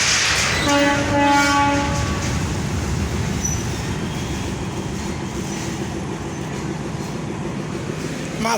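A train leaving the Saidpur railway workshop sounds a long steady horn blast near the start, then rolls on with a continuous rumble and rhythmic clatter of wheels.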